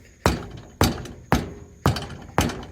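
Five sharp, evenly spaced metal hammer blows strike while a trailer tire is being mounted on its rim, each ringing briefly and then dying away, loud and close with no talking.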